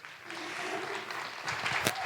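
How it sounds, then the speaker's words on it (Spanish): Applause from an audience, a steady wash of clapping at moderate distance, swelling slightly toward the end with a voice faintly under it. "Ana Luisa, recíbanla con un fuerte aplauso."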